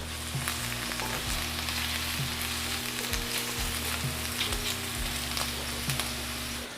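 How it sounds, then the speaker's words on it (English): Potato peels sizzle and crackle loudly in a hot cast iron pan over high heat, with a steady frying hiss and occasional scraping stir strokes, close up and without talk. "you have to stir till the potato peels are almost burned"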